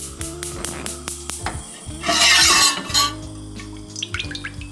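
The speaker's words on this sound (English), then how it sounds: "Now we take the seasoned catfish and add it to the dredge. Give it a toss." Seasoned catfish pieces tossed in a flour dredge for buttermilk fried catfish, with soft rustling and shaking in a bowl, a brief louder burst of tossing in the middle, and light kitchen clatter around it, no talking.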